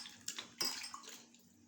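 Hands swish and splash in a small tub of water beside a kitchen stove, a few quick sloshes and drips close by, fairly quiet and with no one talking.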